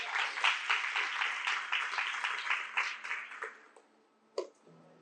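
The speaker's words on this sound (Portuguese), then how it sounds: "aplauda ao Senhor" Congregation applauding at a Brazilian evangelical church service, a dense steady wash of clapping that thins out and fades after about four seconds, followed by a single short sharp sound.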